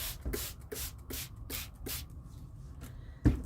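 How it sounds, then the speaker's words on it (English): A spray bottle spritzes coffee onto paper in a steady series of short bursts, about one every half second, close by, ending with a thud. "Spray it down. Put a stencil. Spray it down."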